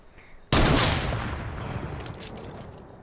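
A single heavy gunshot or explosion in a video game bursts in suddenly, loud and close, then rumbles and fades slowly over a couple of seconds with faint crackles in the tail.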